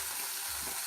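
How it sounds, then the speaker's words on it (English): Steak sizzles in a frying pan with a steady, dense hiss and crackle, close and continuous, without any talk over it. "Right, let's whack this steak on. Oh yeah, sizzle that sucker away."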